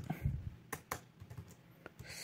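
Code is typed on a computer keyboard in quick, irregular clicks and key taps, close but fairly quiet, with short pauses between bursts and no talk.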